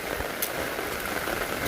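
Rain falls on a rural village on a stormy rainy-season morning, a steady hissing wash of drops close by with no talk.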